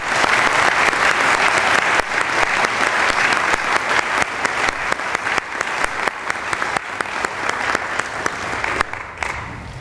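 An audience at a ceremony claps loudly to congratulate student initiates, a dense sustained round of applause that thins slightly near the end.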